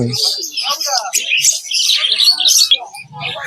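Caged lovebirds and conures at the Naihati bird market give a dense run of sharp, close, high-pitched chirps and squawks in rapid bursts, with a brief low murmur of people in the background.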